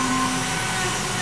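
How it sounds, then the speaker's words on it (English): Dremel rotary tool grinding in a shop where molds are being made, a steady close whining buzz held right by the microphone, with no talk over it. "Ruiz decided to Dremel right under the microphone"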